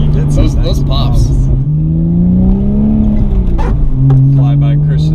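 Porsche accelerating hard with exhaust pops, a loud, steady engine drone rising and dipping in pitch over several seconds as the revs climb, with speech-like voices faintly present underneath.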